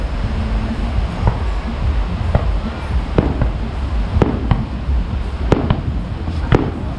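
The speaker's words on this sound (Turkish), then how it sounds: "havai fişek patlatıyorlar şu an" Fireworks bursting over a beach at Kamala, Thailand: a string of sharp, distant-to-mid booms and cracks spaced irregularly over a steady roar of crowd and surf noise, with no clear talk.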